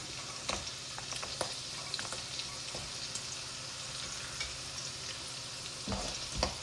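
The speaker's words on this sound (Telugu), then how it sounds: "గార్లిక్ అంటే ఏమో కాదండి, వెల్లుల్లి వేయించాలి" Garlic frying in a hot pan for methi chicken: a steady, close sizzle with intermittent stirring scrapes and clinks throughout, no talk.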